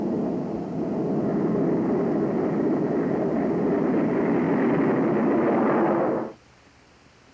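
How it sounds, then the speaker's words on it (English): A steady, loud roar of an F-102A Delta Dagger jet engine holds for about six seconds, then cuts off abruptly, leaving a quiet low hum. "the airplane is ready for its run on the firing range"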